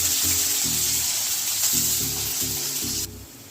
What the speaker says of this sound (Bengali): এই পেঁয়াজটা ভেজে বেরেস্তা হবে এটা